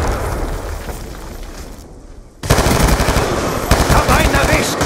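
Call of Duty: Black Ops 2 multiplayer battle on PS3: rapid machine-gun fire rattles loudly throughout, broken by a heavy grenade blast midway before dense gunfire resumes.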